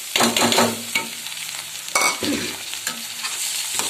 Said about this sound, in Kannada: ನೆನೆಸಿಟ್ಟಿರೋ ತೊಗರೆ ಬೇಳೆಯನ್ನು ಸೇರಿಸ್ತಾ ಇದ್ದೀನಿ